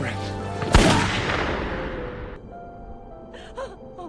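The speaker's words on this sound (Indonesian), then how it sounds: "Yong-hye menemukan pistol di dalam pesawat dan akhirnya Rian mati ditembak olehnya." A single loud gunshot from a pistol in a film, fired aboard an aircraft, cracks sharply, then rings out and decays, followed by a brief sharp intake of breath.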